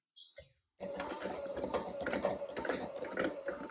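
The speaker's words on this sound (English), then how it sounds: "I'm gonna use a hand mixer here" Hand mixer creaming soft butter and sugar for chocolate chip cookies, a steady whirring motor with beaters rattling in the bowl, starting after a short pause and running continuously up close.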